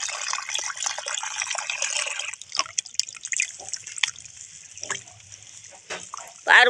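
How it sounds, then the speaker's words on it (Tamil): Water poured over goat legs being washed with turmeric and salt for goat leg soup, a steady trickling and dripping splash with a louder gush near the end. "எப்படி தண்ணி ஊற்றி மஞ்சத்தூள் உப்பு போட்டு கழுவுறோம் பாரு"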